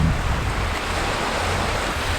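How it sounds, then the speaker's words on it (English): Ocean waves washing in and out on the beach at Seaham, close to the microphone: a loud, continuous rush of surf with some wind noise and no voices. "I've left my camera just where the waves are coming in and out"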